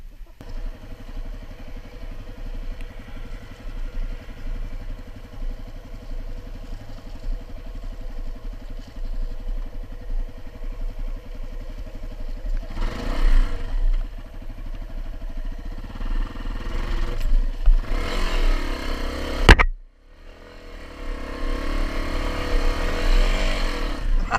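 A dual sport motorcycle labours up a steep hill on a rainy day, its engine droning steadily and then rising in revving surges, with a sharp clattering jolt near the end before the engine carries on.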